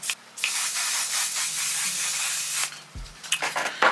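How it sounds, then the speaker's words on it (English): A steady, close hiss of aerosol mattifying makeup setting spray runs for about two and a half seconds, then cuts off with a small clunk and some light handling sounds. "my last little step is the One Size On Till Dawn mattifying setting spray"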